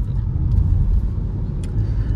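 A 2023 MG Hector SUV cruising on a highway, a steady low engine and road rumble with faint wind noise, continuous and even throughout.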